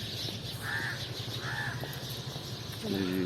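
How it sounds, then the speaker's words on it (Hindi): Crows caw in large trees along a walking path, two clear rounds of calls over a steady outdoor background, moderately near, with a low hum and a brief tonal sound near the end. "सारी चिड़ियाँ यहाँ बैठी हुई हैं"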